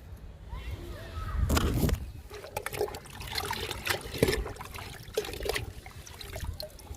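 Liquid fertilizer poured onto a small hibiscus plant, a soft trickling splash with irregular dribbles and handling noises, fairly close and quiet.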